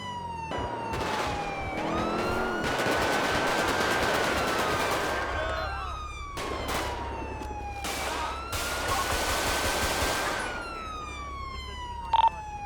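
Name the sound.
gunfire in GTA V LSPDFR police mod video game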